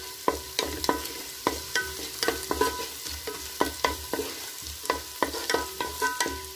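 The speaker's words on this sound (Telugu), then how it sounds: "ఇది బాగా మంచి గోల్డెన్ రంగు వచ్చేంత వరకు వేయించుకోవాలి" Soya chunks (meal maker) frying in a pan until golden, with steady close stirring: rhythmic scraping strokes roughly every half second over a continuous soft sizzle, no voices.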